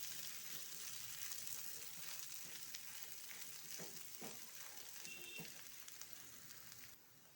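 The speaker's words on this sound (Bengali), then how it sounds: "জালটা একটু কমিয়ে ভালো করে উল্টিয়ে পাল্টিয়ে নেড়ে নিতে হবে।" Mashed potato being stirred and turned in a frying pan over lowered heat, giving a soft, steady sizzle with occasional scraping strokes; faint and continuous, no talking.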